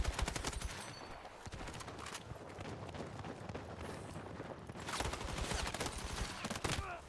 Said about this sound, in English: I'll just shoot this guy then.